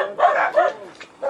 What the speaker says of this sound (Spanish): Esos perros nos victorean.